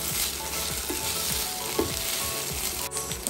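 Potatoes frying in a pan for a minced meat dish, a dense close sizzle with repeated scraping stirs and light clicks of the utensil against the pan, no talking.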